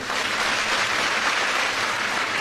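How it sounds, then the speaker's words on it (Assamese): A crowd at an Assam government scheme event applauds the minister and department officials, with steady, dense clapping throughout and no talk. "আপোনালোকে এটা ডাঙৰ হাত চাপৰি বজাই দিয়ক"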